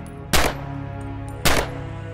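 Two sharp rifle shots ring out in the WWII shooter Red Orchestra 2: Heroes of Stalingrad, about a second apart, each a loud crack with a short ringing tail over a faint game hum.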